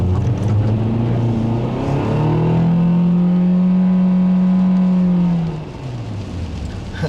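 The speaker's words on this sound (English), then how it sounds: "the transmission will send the revs all the way to the red line and hold them there" A 2013 Nissan Sentra engine with a CVT transmission climbs in revs toward the red line and holds a steady high drone for several seconds before easing off, loud and close.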